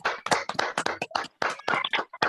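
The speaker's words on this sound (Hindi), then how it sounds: "तालियां भाई अभिषेक मसीह के लिए।" Hands clapping for a graduation award winner, a series of uneven close claps in short bursts with brief gaps between them, fairly quiet.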